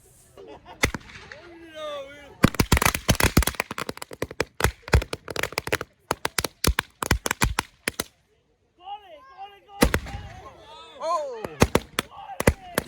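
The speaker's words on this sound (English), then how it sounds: "we had 2 dummies filled with fireworks, and we blew them up by tossing them into the bonfire" Sharp bursts of fireworks crackle and pop in rapid clusters as dummies stuffed with fireworks burn in a bonfire in Mexico, loud and close, with excited voices and cheering between the blasts.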